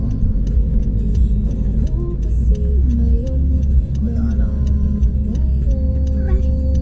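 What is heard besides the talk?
car turn signal indicator ticking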